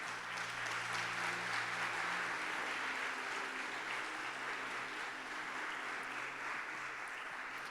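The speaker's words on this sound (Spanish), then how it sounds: "¿Le das palmas fuertes al Señor?" A church congregation claps in praise, a broad, steady wash of applause that stays fairly faint and distant throughout, with music lingering underneath.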